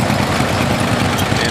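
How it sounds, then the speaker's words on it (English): A John Deere 50 tractor runs at a tractor show parade, its engine giving a steady, dense rumble that is loud and close throughout, with no talk over it. "There's a beautiful John Deere 50"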